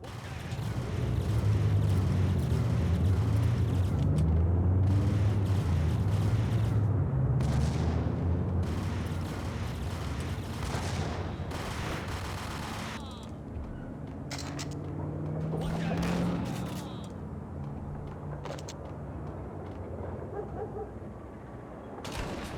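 Gunfire in the Max Payne video game, booming shots and loud blasts layered over a dense, continuous game soundscape, with someone talking in places.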